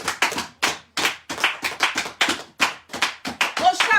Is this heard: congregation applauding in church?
yes